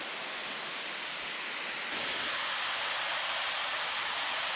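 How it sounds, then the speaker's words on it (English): Bonaparte waterfall in the Nass Valley along the Nisga'a Highway, a steady broadband roar of rushing water that swells louder about halfway through, with no voices. "The first one being the Bonaparte waterfall."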